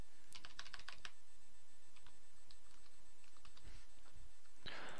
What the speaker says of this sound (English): Now all I want to do is type in the coordinates which appeared in the control panel.